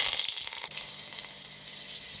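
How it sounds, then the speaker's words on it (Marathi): Mango chutney, ground on a traditional stone slab, sizzles as it is tempered in hot oil, a steady close-up frying hiss with a few crackles and no talking. "ही आपली चटणी फोडणी देऊन."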